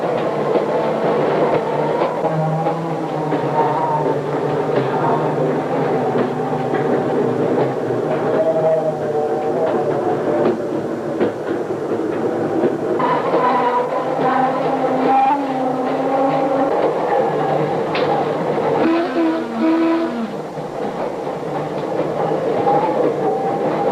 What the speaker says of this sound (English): And our train goes down the middle of Linden Avenue,